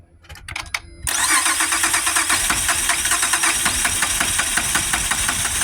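A 2005 Acura TL Type S 3.5L engine cranks briefly with a few uneven turns, then catches and runs in a loud, steady, rapidly pulsing idle close by.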